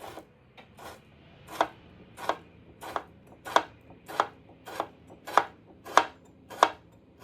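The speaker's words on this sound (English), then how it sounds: "One tomato, cut in half and chopped." A knife chops a halved tomato on a cutting board in eleven or so crisp, evenly spaced strikes, close and clear with no talking.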